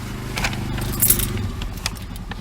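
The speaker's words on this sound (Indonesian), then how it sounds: "Kuncinya kayak gini. Masukinnya ke lubang di sebelah kiri, jadi nggak di sebelah kanan." Car key for a Mercedes-Benz 190E W201 slides into the ignition with a close, bright jangle of the key ring and small metallic clicks, over a steady low hum.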